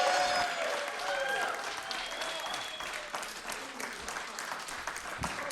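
Audience applause following a Christmas Eve saxophone performance, steady mixed clapping at moderate distance that slowly thins out, with some faint voices and chatter mixed in.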